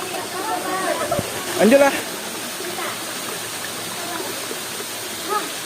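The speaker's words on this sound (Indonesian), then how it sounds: "ini air terjunnya." Guguk Parahyangan waterfall near Pariangan village rushes in a steady, broad wash of falling water, with people talking briefly over it.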